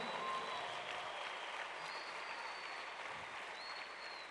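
A church congregation applauding in praise of God, a steady wash of clapping throughout that is fairly faint and distant, with no speech over it.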